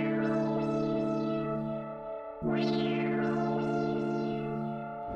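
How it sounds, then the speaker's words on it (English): Synth keys run through the hopper preset from the Ether Portal bank, giving a sustained chord with rippling, echoing repeats and a bright swell at the midpoint before the pattern continues, heard alone. "Portal preset is the hopper preset inside of prodbyloushi's ether portal bank"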